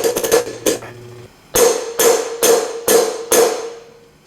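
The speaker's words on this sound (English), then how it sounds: "we're going to go down and it'll actually make a sound, a nice solid sound" A wheel bearing is hammered down into its seat with a series of loud, ringing metallic strikes, a quick cluster at first and then five evenly spaced solid blows, close and alone.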